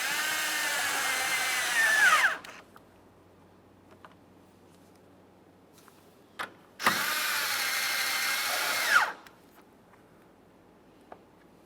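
A cordless power tool runs in two bursts of about two seconds each, driving the tail light mounting bolts on a 2011-2020 Toyota Sienna, with faint clicks in the quiet pauses between.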